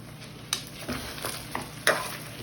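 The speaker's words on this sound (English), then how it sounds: "So that's the meat is getting brown" Pork browns in a stew pot with a soft, steady sizzle under a few scraping stirs of a utensil against the pot.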